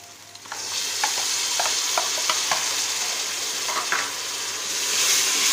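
Green chillies are stirred into aloo gosht, potato and meat frying in a pressure cooker, a constant close sizzle broken by several clattering scrapes of a spoon against the metal, with no voices.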